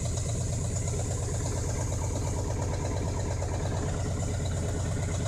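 YaMZ-238 diesel engine idling after an over-rev fault, a steady, loud, close rhythmic knocking rumble that stays constant throughout with no talking.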